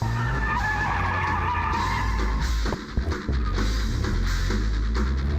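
A car drifting around a turn, tires skidding and screeching continuously under the engine roar, with a brief dip and rattle in the middle before the loud squeal resumes.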